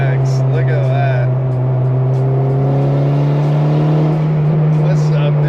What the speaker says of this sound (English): What a dope NSX. Look at that.